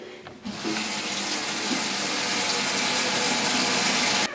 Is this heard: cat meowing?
no